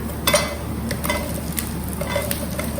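Red, yellow and green capsicum with zucchini tossed and stirred in a pan over a high flame, with scattered clinks and scrapes of a utensil against metal over a steady low hiss, no voices.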